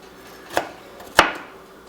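A knife chops an onion on a board with two distinct close, crisp strikes about half a second apart, in a quiet kitchen.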